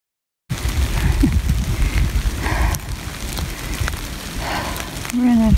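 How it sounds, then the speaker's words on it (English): Steady rain falls on an Appalachian Trail hike uphill, a constant close hiss and patter with a brief whine near the end. "So the rain is coming down harder now."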